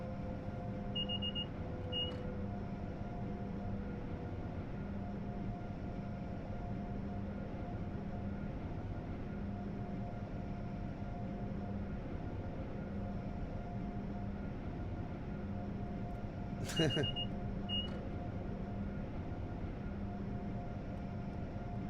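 Constant low mechanical drone of a train's compressor and cab equipment in Train Sim World 3, a steady hum with tonal whine, brief electronic beeps early and a short sharp click burst late.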